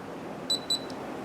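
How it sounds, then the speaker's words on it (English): A LaGard safe lock keypad gives a quick double beep, two short high electronic tones in a row over faint room hiss. "You'll see that'll give you a double beep and the red light will stay on."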